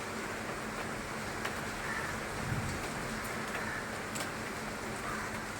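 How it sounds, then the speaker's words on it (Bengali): Heavy rain pours steadily in South Kolkata as a dense, even hiss that carries on unbroken throughout, with no voices. "মুষলধারে বৃষ্টি পড়ছে, আর আকাশে কালো মেঘ হয়ে আছে"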